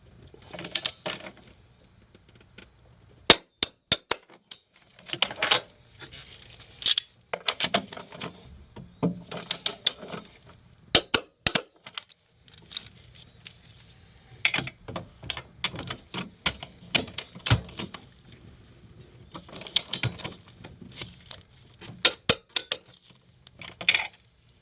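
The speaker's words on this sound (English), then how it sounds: "Start torquing these to 40 foot-pounds." A torque wrench tightens Kia Soul transmission bolts to 40 foot-pounds with scattered sharp metallic clicks and ratcheting taps in uneven bursts, close up and with no talking.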